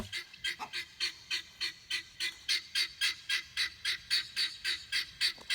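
A small guinea fowl calls in a rapid, steady series of harsh, rhythmic cries, about three per second, close and fairly loud with no talking.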